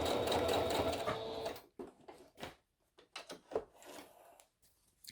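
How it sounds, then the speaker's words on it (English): A sewing machine stitches a fabric face mask, running steadily for under two seconds before stopping, followed by quieter clicks and handling sounds of the fabric and machine up close. "Let's sew this second stitch on the other side."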